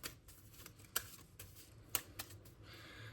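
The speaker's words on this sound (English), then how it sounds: "and then give it 1 more good shuffle." Playing cards are shuffled and riffled, with quiet rustling broken by a few crisp snaps as the deck is squared, close and low in level without talk.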